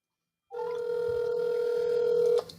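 An incoming call's telephone ring tone: one steady electronic tone held for about two seconds, close and clear with no talking, starting after a brief silence.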